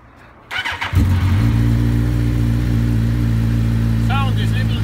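Suzuki GSX-R1000 K1 motorcycle engine cranking and catching after a fuel pump filter cleaning, then settling into a loud, close, steady idle, with brief talking heard over it near the end.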